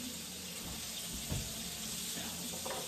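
A tap runs steadily into a sink while paint brushes are rinsed, a close, even hiss of flowing water with faint splashing and no talk.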